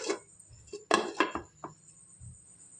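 A metal lid clatters and clinks onto a cooking pot on the stove, several sharp contacts in quick succession, close and fairly quiet, with no talking.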